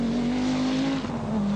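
Rally cars race through the Corrimony stage west of Loch Ness during the 1983 Scottish Rally, with a steady, loud engine drone holding a sustained pitch and road noise and no speech.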